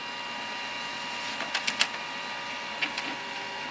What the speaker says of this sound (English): Printer starts up